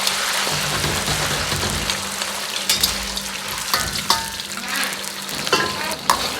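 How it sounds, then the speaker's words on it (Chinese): Lamb slices fry in oil heated in a wok over low heat, a dense, steady sizzle with crackling spatters and occasional stirring clatter, close and continuous throughout. "油温烧至4成热，开小火下入羊肉"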